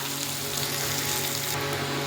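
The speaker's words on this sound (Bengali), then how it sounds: "কত সুন্দর পেঁয়াজটা ভাজা হচ্ছে।" Onions fry in oil in a pan after fish, making a constant close hiss and crackle that holds steady throughout.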